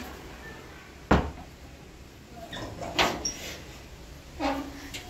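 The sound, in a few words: door being closed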